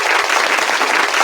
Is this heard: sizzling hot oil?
no